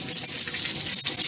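Water runs steadily from a newly installed shower nozzle in a basement bathroom build, a continuous close hiss and spray with no talking.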